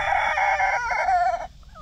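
A backyard rooster crows loudly and close by, one drawn-out call lasting over a second before it cuts off into quiet.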